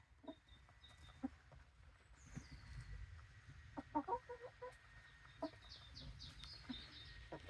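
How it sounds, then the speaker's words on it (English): Egg-laying hens on a four-acre homestead in Spain cluck softly and intermittently nearby, with a few sharper calls and a low background hum. "So that's the hen laying eggs."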